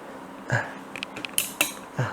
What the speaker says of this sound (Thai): มาเคาะกับขาตั้งกล้องเลยก็ได้